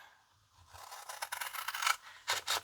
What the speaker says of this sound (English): this line here we're going to cut all the way through